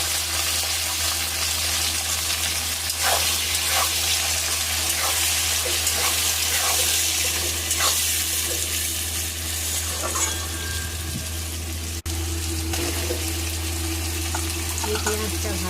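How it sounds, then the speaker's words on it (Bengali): Onion and tomato fry in a pan with a continuous, fairly loud sizzle, punctuated by occasional stirring scrapes and a low steady hum beneath. "এই পেঁয়াজটা ভাজা ভাজা হয়ে গেছে"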